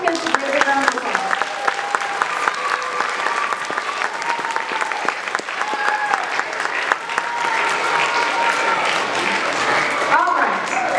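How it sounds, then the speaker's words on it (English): Students at a school character-education assembly on thankfulness are cheered with steady, dense applause from a large audience, filling the hall continuously with scattered voices and faint music tones underneath. "Let's give all those kids a great round of applause"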